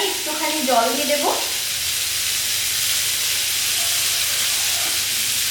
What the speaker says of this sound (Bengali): এবার আমি একটুখানি জল দিয়ে দেবো।